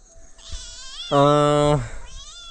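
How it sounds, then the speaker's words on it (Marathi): A single clear, drawn-out meow rises and falls, close and loud, over faint rustling background noise. "ही मांजर बघा मशीन कशी घुसली"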